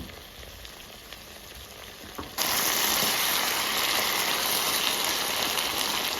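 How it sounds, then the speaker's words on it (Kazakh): Water pours into a hot frying pan of fried potatoes and bell peppers, a sudden loud hissing surge that starts after a quieter sizzle and then holds as a steady, strong roar of boiling and spitting. "Енді су құямын"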